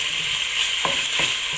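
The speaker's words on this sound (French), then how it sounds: "Dans la casserole ayant servi à dorer les morceaux de viande, je vais mettre maintenant mes lardons." Lardons frying in a casserole pan already used for browning pork give a loud, steady, bright sizzle, broken by two short stirring scrapes.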